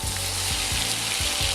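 Shallots and flour sizzle in melted butter while a roux is made in a pan, a steady, loud frying hiss that runs continuously with no voices.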